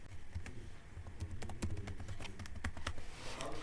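Quick, irregular clicks of keys on a computer keyboard as a username and password are typed in, close and fairly quiet, in bursts of keystrokes with no talking.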